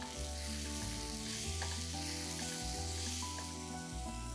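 Tomatoes with coriander-cumin powder, red chili powder and garam masala frying in a pan for aloo gobi, with a steady continuous sizzle and a low background hum throughout, no voices.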